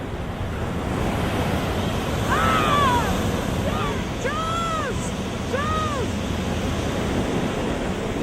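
Ocean waves wash onto a beach in a steady, close surf roar with wind buffeting the microphone, while short whistling bird-like chirps rise and fall over the top partway through.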